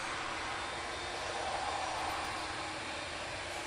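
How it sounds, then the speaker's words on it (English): A Boeing 787-9 Dreamliner at Manchester Airport, its jet engines producing a steady broadband roar at moderate distance, continuous and even throughout with no talking. "we'll kick off with the 787-9 Dreamliner till Melbourne"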